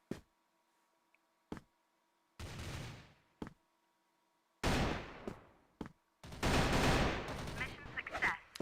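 Bursts of AK-74 rifle fire in the CrossFire video game during an esports match: single sharp shots, then several sustained automatic volleys, with quiet gaps between them.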